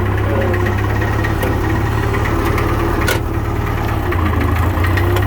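A Farmall 544 tractor engine runs steadily at idle with a loader fitted, a loud, continuous low rumble with knocking vibration throughout, with a brief clunk partway through as the shuttle lever shifts between forward and reverse in second gear.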